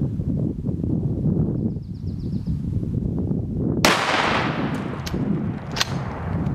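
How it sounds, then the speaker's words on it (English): A single shotgun blast firing a one-ounce rifled slug outdoors, a sharp loud crack partway through followed by a decaying rumble over a windy background, with a few faint later knocks. "I'm going to start by firing 1 round. And that's why you use rifled slug out of a shotgun."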